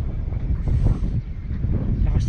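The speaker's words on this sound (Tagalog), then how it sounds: "Lakas ng hangin dito, grabe." Strong wind gusts across an open hilltop parking area near a large Virgin Mary statue in Batangas, Philippines, roaring steadily and close into the microphone. Voices talk faintly underneath.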